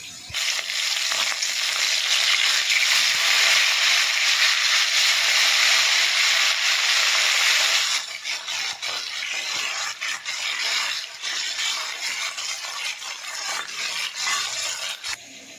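Whole black pepper, cumin, mustard seed and sandalwood are ground together, a continuous gritty scraping and crushing that runs loud and steady, then turns softer and more broken with intermittent strokes.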